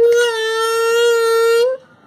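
Mouth-blown engine imitation made through a crushed Coca-Cola can: a single sustained buzzing drone with a strong steady pitch, lasting under two seconds before cutting off.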